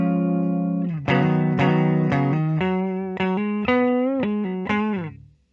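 Clean electric guitar on the neck pickup of a 2021 Gibson Jerry Cantrell "Wino" Les Paul, with a warm, rounded tone, plays a short melodic phrase of sustained single notes and double-stops, then fades out.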